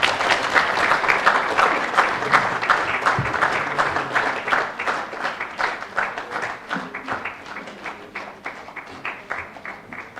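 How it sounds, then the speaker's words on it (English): Students at a Kyambogo University freshers' orientation clap to welcome the university president, a lively round of applause with distinct rhythmic hand claps that gradually thins out and softens. "So let's clap to welcome the president."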